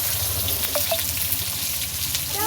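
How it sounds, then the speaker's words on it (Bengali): Onions fry in hot oil in a home kitchen pan, giving a steady, close crackling sizzle with faint stirring scrapes and no talk. "তেল দেওয়া হয়ে গেছে, এবার পেঁয়াজ ছেড়ে দিল।"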